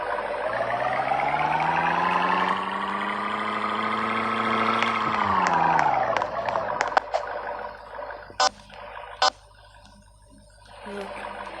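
A truck engine in a video game drones steadily at a loud, even pitch, then its revs drop away, followed by a few sharp clicks and brief tones and a quieter idle.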